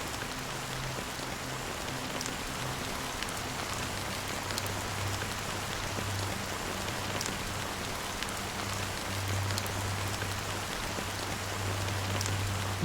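Steady rain falls in the video game Honkai Star Rail, a dense, even patter on surfaces that carries on unchanged, with a faint low hum beneath and no speech.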